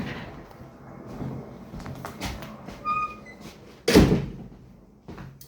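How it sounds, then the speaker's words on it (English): A room door is shut with a single loud, close slam partway through, following quieter shuffling sounds and ending in a short thud. "Let me shut my damn door."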